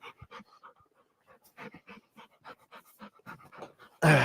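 A puppy pants rapidly and steadily at close range, quick rhythmic breaths in a quiet room, ending with a sudden loud rustling burst.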